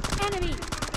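Rapid bursts of automatic gunfire from a video game firefight with a rocket launcher in play, dense and continuous through the moment, with a brief whistling tone sliding downward under the shots.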